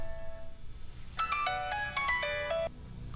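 A telephone rings with a rapid electronic melody of bright tones lasting over a second, rising out of quiet room ambience.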